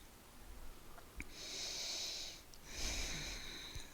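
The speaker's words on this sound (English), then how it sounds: "tuning into that deep, deep nose breathing" Deep, slow nose breathing during a gentle beginner yoga stretch, two long airy breaths, an inhale and an exhale, close and fairly quiet with soft hiss.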